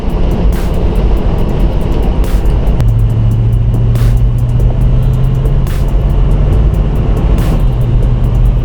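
Car engine with a higher-stall TCI torque converter held at stall speed in a shop, a loud steady drone that steps up in pitch partway through and holds there.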